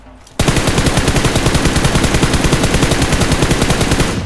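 Rapid automatic gunfire from a PUBG Mobile match, a loud sustained burst of evenly spaced shots that starts abruptly after a brief quiet moment and runs without pause to the end.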